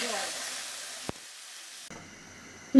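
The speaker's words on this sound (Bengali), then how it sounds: "আলুটা একটু ভেজে নেব" Potatoes fry in oil with a close, soft sizzling hiss that fades over about a second before dropping to near silence, with a faint clatter at the very end.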